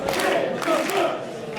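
Wrestling crowd roaring in support of Ricky Starks during an Inspire Pro Championship match against Sammy Guevara, a dense, steady wall of cheers and shouts with no break across the moment.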